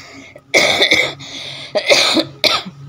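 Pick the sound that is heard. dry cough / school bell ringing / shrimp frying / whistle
dry cough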